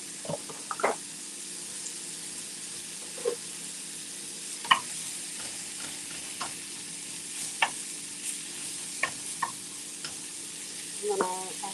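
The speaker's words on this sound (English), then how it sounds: "the first thing I'm going to do is saute some mushrooms" Mushrooms sauté in a pan, a steady soft sizzle broken by scattered clicks and scrapes of stirring, close and fairly quiet with no talk.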